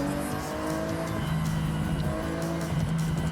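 Tuned Class A race car engine in the racing game Forza Horizon 6, a loud sustained engine drone with shifting tones and a tire squeal, steady and close throughout with no talk.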